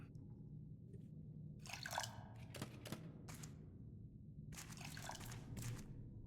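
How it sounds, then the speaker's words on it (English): Water drips and trickles in a video game, several soft splashing bursts over a low steady background hum, faint and without talk. "When I hear water noises."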